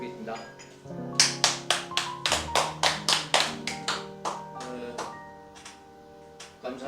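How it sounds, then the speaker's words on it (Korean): Audience at a lecture gives a round of applause, heard as a run of distinct, fairly slow claps about a dozen strong, each sharp and separate, over a steady hum and some background talk. "큰 박수 부탁드리겠습니다."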